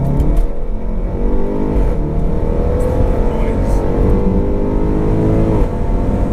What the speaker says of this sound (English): So I think it's like an active exhaust. I think it opens at a certain RPM.